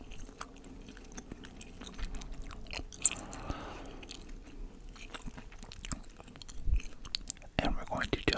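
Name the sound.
chewing gum, ASMR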